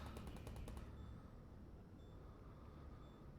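Turrets firing at antlions in the video game Half-Life: Alyx, a quick rattling burst of automatic shots at first, then a faint distant rumble with occasional thin tones over steady background noise.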